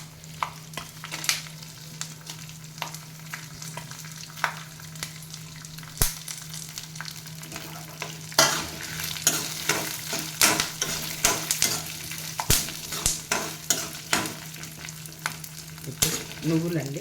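Dried red chilies fry in a pan, a low steady sizzle with a constant hum, joined midway by brisk, frequent stirring scrapes and taps, no voices.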